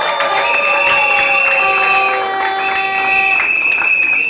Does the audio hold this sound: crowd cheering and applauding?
yes